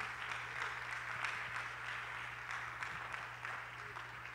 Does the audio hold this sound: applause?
yes